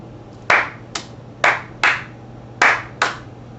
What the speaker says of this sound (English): They sent us out here to clap.